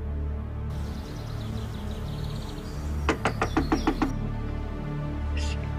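Knocking on a home's front door, a quick series of about seven sharp raps in a single burst midway, over a steady low background hum.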